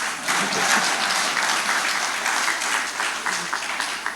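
An audience at an anniversary launch event claps together in a steady burst of applause lasting several seconds, fairly close and loud.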